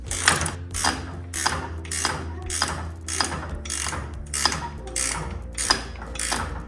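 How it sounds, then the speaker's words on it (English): A garage door opener chain adjuster on a Genie chain-drive unit is cranked with a 13mm wrench, giving about ten evenly spaced ratcheting clicks at close range over a low steady hum. "I'm gonna go ahead and put a couple cranks in this using a 13mm wrench"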